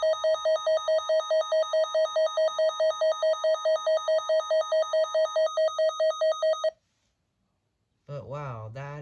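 A WR300 weather radio sounds its advisory alert tone, a loud, rapidly warbling electronic beep pulsing steadily for several seconds before cutting off, followed by someone talking.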